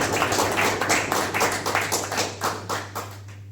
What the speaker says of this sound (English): Then I think we can give another round for applause.